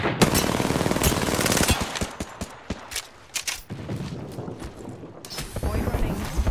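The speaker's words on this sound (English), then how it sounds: "Airstrike." Airstrike in Apex Legends, rapid bursts of loud explosive gunfire-like cracks hammering in clusters, dropping briefly then picking up again, close and dense throughout.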